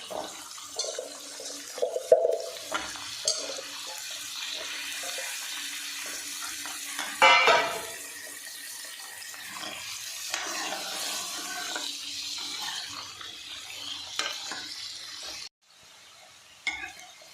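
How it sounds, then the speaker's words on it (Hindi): Turnip pieces fry lightly in a pan, giving a steady soft sizzle with a few stirring clinks and one louder stir midway, heard close and alone without talk. "ਸਾਰੇ ਸ਼ਲਗਮਾਂ ਨੂੰ ਅਸੀਂ ਹਲਕੇ ਹਲਕੇ ਫਰਾਈ ਕਰਾਂਗੇ"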